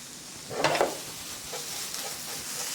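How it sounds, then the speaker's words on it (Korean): Potato and onion sautéing in butter in a pan for a corn soup, giving a soft steady sizzle with a brief louder burst of stirring and scraping near the start, no talk. "이런 식으로 볶아주고요."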